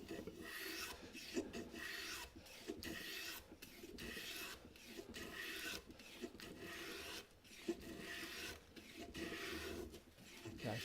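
A hand plane shaves a wooden board for a dovetailed wall cabinet, making a series of close, rhythmic rasping strokes, each a few seconds long with brief pauses between, and no voices.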